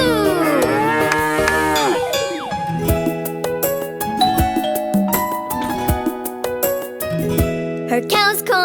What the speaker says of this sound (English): And she goes moo.